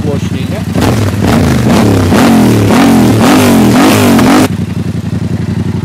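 A Yamaha MT-07 motorcycle with an FMF aftermarket exhaust revs hard in repeated loud bursts, rising and falling up close, then drops back to a steady rumbling idle.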